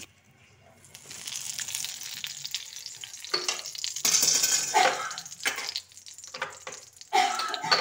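Bay leaf with fennel and fenugreek seeds sizzle and crackle loudly in hot oil in a wok, rising from a quiet start into dense frying with stirring and scraping bursts.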